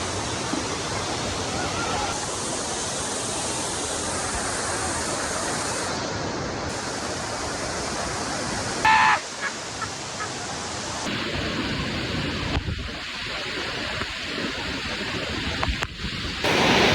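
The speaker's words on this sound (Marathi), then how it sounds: "असा भारी धबधबा आहे" Khandi waterfall roars with strong water pressure, a loud, unbroken broadband rush heard close up throughout, with a few brief knocks and handling noises near the microphone.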